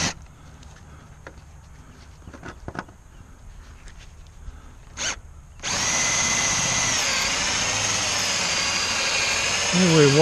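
Hole saw boring into old fence wood set with ring shank nails: scattered knocks and taps at first, then a loud power drill kicks in and runs continuously close up, its pitch sagging as it bites near the end.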